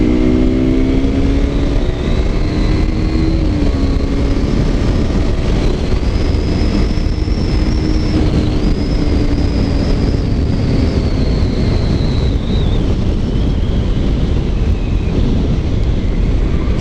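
A KTM RC 125 with a Radical Racing exhaust buzzes loudly and continuously while being ridden, its pitch slowly rising and falling as the throttle changes.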